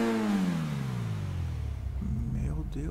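A tuned Progen Itali GTB Custom supercar in GTA Online revs hard, its engine pitch sliding downward over the first two seconds, then settling into a rough, close idle rumble.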